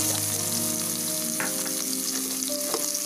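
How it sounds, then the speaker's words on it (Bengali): Chopped garlic sizzles in hot oil in a pan with onion for a Bengali fish curry. Steady frying crackle is broken by a few stirring scrapes and clinks. "এটা একটু ভাজা ভাজা হয়ে যাচ্ছে।"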